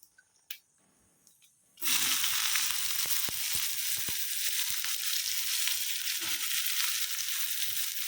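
After a quiet stretch with a few small knocks, onions drop into hot oil for a prawn roast masala and a loud, even sizzle takes over, steady to the end with scattered crackles.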